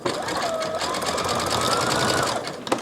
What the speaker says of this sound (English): I'm pulling that elastic and doing my zigzag stitch